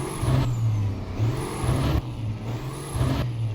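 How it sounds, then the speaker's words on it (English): A Cummins truck engine idles and runs in American Truck Simulator, a steady low rumble repeatedly overlaid by sharp hissing air-brake bursts at regular intervals. "So this is what the engine sounds like."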